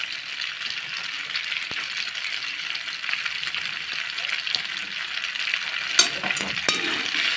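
Pasta with tomato sauce stirred in a hot pan, with a continuous sizzle and frying hiss broken by occasional scrapes and clicks of the spoon, close and steady.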